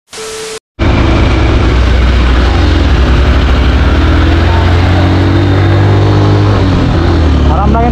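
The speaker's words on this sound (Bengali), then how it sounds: "আর এই পাহাড়ে আসলে, পাহাড় ওঠার সময় বাইক একেবারে কান্না করে দেয়, উঠতেই থাকো উঠতেই থাকো।" Motorbike engine labouring loudly up the steepest hill road at Sajek Valley, a continuous close drone with steady low rumble and rising pitch near the end, after a brief tone and gap at the start.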